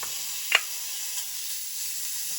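Bacon frying in a pan for chili gives a steady, faint sizzle with one brief louder pop near the start.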